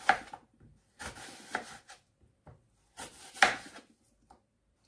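Fruit being chopped on a board for a fruit cocktail, four short bursts of knife strokes and rubbing scrapes at steady intervals, close and fairly quiet with silence between.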